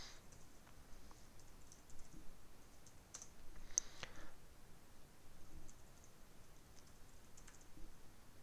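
Quiet, steady typing on a computer keyboard, with soft irregular key clicks and a few sharper taps close to the microphone.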